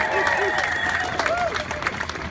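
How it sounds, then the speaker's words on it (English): Crowd applause at an outdoor public lands rally in Portland, Oregon, a brief burst of clapping mixed with cheering voices and a whoop or two. "Give them some applause."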